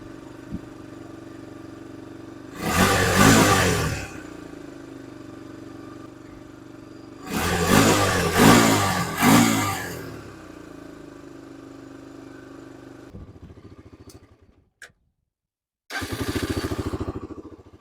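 A Honda TRX300EX ATV engine idles steadily with a low putter after the choke is turned off, broken by several loud revving bursts, then briefly cuts out before starting up again.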